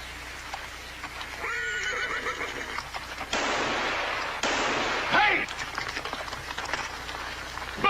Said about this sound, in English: He's stampeding our horses.